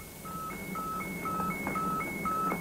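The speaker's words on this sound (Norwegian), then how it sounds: "Tonesignal som blir etterfulgt av det velkjente massesignalet SOS." Maritime radio distress tone signal: two pitches alternate in a steady, evenly spaced warble over constant radio static, moderately loud throughout.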